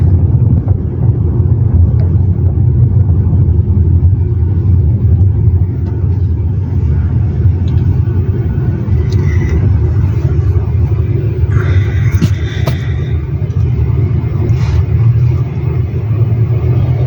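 Steady low rumble of a car driving in light traffic on the Ortigas flyover, heard from inside the cabin, continuous and fairly loud, with faint road and passing-vehicle noise.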